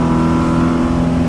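A 1960 Alfa Romeo Giulietta Spider is driven through turns in the Forza racing game, its engine note a steady loud hum held at a constant pitch for a brief moment.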